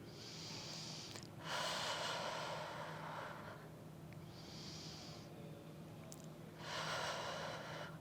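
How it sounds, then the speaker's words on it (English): Breathing during a Pilates mat exercise: a few slow, close, airy breaths in and out, each lasting a second or two, alternating with quieter pauses; no talking. "breathe in."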